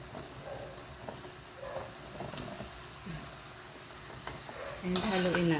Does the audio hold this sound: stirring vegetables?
yes